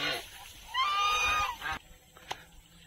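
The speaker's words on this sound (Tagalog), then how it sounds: "Tingnan natin yung ating gansa dito." A goose lets out a loud, drawn-out honk up close, bracketed by shorter squawks and rustling.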